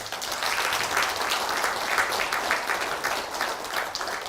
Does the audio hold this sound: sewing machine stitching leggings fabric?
no